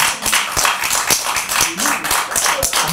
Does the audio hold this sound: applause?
yes